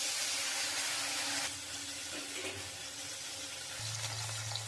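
Fish frying in oil in a kadai, the fillets rubbed with salt and turmeric beforehand; a steady close hiss and sizzle that shifts tone partway through, with a low hum running underneath and no talking.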